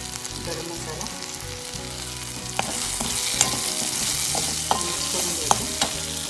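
Spice powders, including coriander and cumin powder and garam masala, are stirred and fried in a pan, a steady close sizzle broken by sharp scraping clinks of the spoon against the metal.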